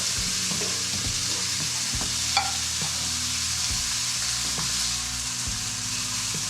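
Venison backstrap searing in an iron skillet, a steady close sizzle and hiss with occasional scrapes and taps of a utensil and a low background hum, no voices.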